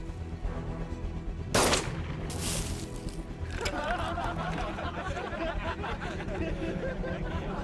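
Gunfire crackles through a battle scene in an anti-Japanese war action film, with sharp bursts and rapid volleys over a busy background while voices shout beneath the shots.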